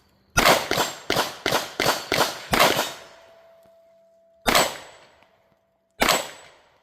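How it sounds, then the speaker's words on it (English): Canik Prime pistol fired outdoors: a rapid string of six loud shots, each ringing and echoing, followed after a pause by two more separate single shots with decaying tails. "Taylor shooting the Prime again."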